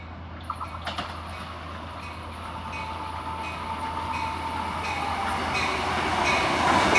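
A passenger train led by an F40 cab car rumbles past with rising roar and clattering wheels, growing louder toward the end; no voices.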